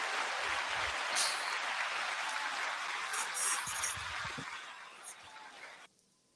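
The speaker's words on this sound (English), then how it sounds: "9-second applause to you all" A steady wash of audience applause fills about six seconds at a moderate level, with some voices mixed in, then cuts off sharply.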